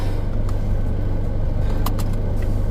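A Mazda 3 fitted with new lower control arms drives on a test drive, giving a steady low road and engine rumble from inside the cabin, with a few faint knocks and no talking.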